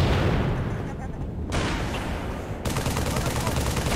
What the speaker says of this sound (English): He got lasers.